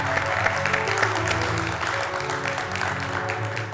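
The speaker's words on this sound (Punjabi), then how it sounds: "ਉਹਨਾਂ ਵਾਸਤੇ ਬਹੁਤ ਸਾਰੀਆਂ ਤਾਲੀਆਂ ਆਉਂਦੀਆਂ" A studio audience claps in a steady, moderately loud wash of applause that holds for several seconds over a low musical background.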